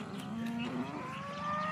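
A cow on a farm lets out a single drawn-out low moo that rises slightly in pitch, fairly faint and distant, over a steady background hum.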